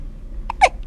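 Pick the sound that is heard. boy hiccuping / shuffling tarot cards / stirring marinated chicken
boy hiccuping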